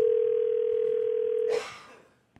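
A telephone tone sounds on an outgoing call, a single steady electronic note held for about a second and a half, loud and clear, then it cuts off into a brief fading noise.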